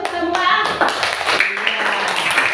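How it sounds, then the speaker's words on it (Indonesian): Classroom applause from a group of students, a short spell of quick hand claps close by, mixed with a few children's voices in the background. "Tepuk tangan untuk semua."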